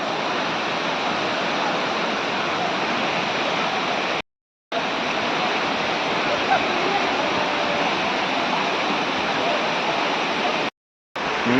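Continuous roaring rush of the Anachadikuthu waterfall in Kerala, water dropping into a deep pool, loud and even, briefly dropping out twice.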